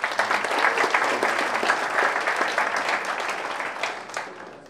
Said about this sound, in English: one more round of applause for Swag Swap